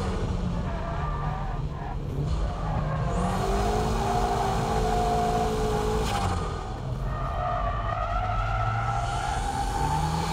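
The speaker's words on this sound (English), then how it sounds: "On the S-curves, the feint drift should be used." A drift car on S-curves holds a loud, continuous engine roar with shifting pitch and tire noise throughout, close and unbroken.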